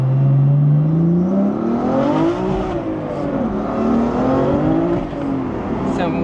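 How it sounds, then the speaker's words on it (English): Mazda RX-7 rotary engine revving hard with wheel spin on cold tires, a loud close whining note that swoops up and down in pitch for several seconds. "Some wheel spin, some cold tires."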